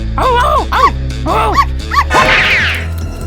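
A dog lets out several sharp, bouncy barks and yips in quick succession, close and loud over a steady low hum, ending in a brief swooshing burst.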